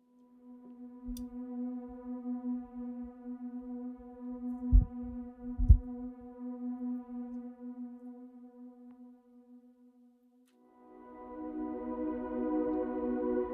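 A steady low synth drone hums with soft thumps beneath it, then a brighter, fuller layer of worship pad swells in near the end.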